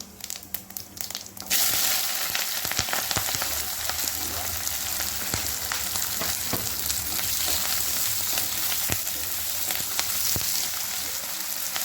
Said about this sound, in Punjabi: ਹੁਣ ਮੈਂ ਚ ਪਾ ਰਹੀ ਆ ਜੀਰਾ ਤੇ ਹਿੰਗ ਥੋੜੀ ਜੀ